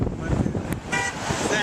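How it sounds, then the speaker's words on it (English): A Jeep's horn gives a short honk among a string of honks in traffic, sounding close and fairly loud. People talk over the steady road and engine noise. "Did you count all 26 honks?"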